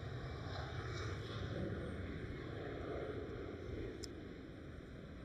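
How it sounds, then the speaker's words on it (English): A KLM Cityhopper Embraer E190 jet rotates on takeoff at Amsterdam Schiphol, giving a steady, fairly distant broadband engine roar that holds level and fades slightly toward the end, with no voices. "a KLM Cityhopper E190 rotating"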